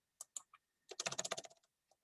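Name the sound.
typing on a computer keyboard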